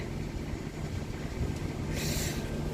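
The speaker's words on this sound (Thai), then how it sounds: "เสียงที่ดังนี่ด้านหลังนี่คือเสียงเครื่องปรับอากาศนะคะ" A steady low mechanical hum and rumble from an air conditioner running nearby in a house in Sweden during very cold winter weather, continuous with a brief hiss burst toward the end.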